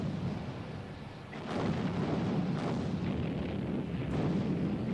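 Naval artillery thunders in the Battle of Jutland, a continuous low rumble of heavy gunfire with deep booms swelling midway, distant and muffled rather than sharp.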